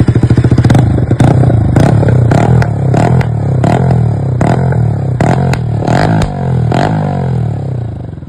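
A lineup of BS3 motorcycles at a drag race rumbles loudly, the engines revving steadily and punctuated by sharp, repeated popping bursts and clattering throughout.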